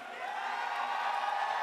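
Crowd at the League of Legends grand finals between Solomid and CLG roaring back from the arena, a broad, sustained distant din of cheers and whoops that swells slightly.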